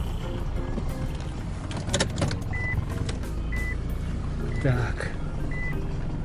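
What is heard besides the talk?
reversing beeps of Mazda MPV turning around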